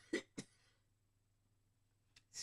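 A person coughs twice in quick succession, close and fairly loud, then after a quiet pause clears their throat in two short bursts; no talking.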